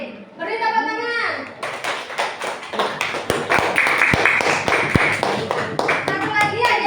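Children in a classroom clap their hands in a lively burst of claps and taps, close and fairly loud, mixed with children's voices and an adult speaking.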